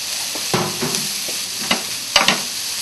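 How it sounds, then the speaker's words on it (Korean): Glass noodles, meat and vegetables are stir-fried in a hot pan with a steady sizzle, with scattered scraping and clacks of a utensil against the pan and a couple of sharper knocks near the end. "자 당면을 넣어서 볶아주세요"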